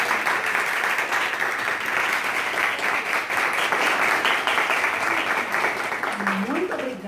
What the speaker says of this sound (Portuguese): Vamos nós dar uma salva de palmas.